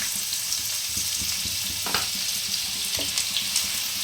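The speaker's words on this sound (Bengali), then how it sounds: "তেল আমার গরম হয়ে গেছে। এরপর আমি পেঁয়াজ কুচিটা দিয়ে দেবো।" Chopped onion sizzles in hot oil for Bengali-style poha, a close, steady frying hiss with occasional stirring scrapes and clicks.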